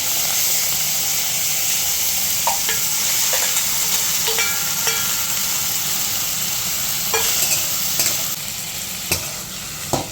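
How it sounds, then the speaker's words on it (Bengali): Prawns frying in hot oil in a wok for a Bengali potol chingri dish: a steady loud sizzle and hiss, with occasional light clinks of a spatula stirring, close up with no talking. "তেল গরম হয়ে গেছে, এবার চিংড়ি মাছগুলো আমি ভেজে নেব।"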